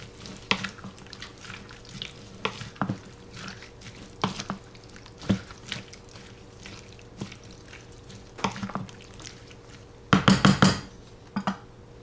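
Shrimp and avocado ceviche with chopped cilantro being mixed in a bowl: soft, wet intermittent squelches and clinks of the spoon at irregular intervals, closing with a louder cluster of stirring noises near the end.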